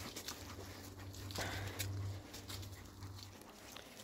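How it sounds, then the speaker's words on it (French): A guide dog in training moves about outdoors and gives soft whimpers, with faint patter of movement throughout, quiet and close. "Merci gros toutou."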